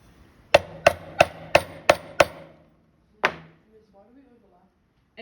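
Sharp wooden chops from a chisel struck into wood to cut a recess for a butt hinge: six evenly spaced close, loud knocks, a pause, then one more strike, with faint low sounds after.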